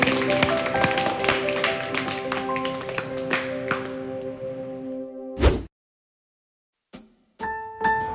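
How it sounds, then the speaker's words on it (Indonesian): Clapping from children at a church service for kids, rhythmic hand claps over music with tones, ending abruptly, followed by silence and a few short chime-like bursts. "Tepuk tangan buat Tuhan Yesus"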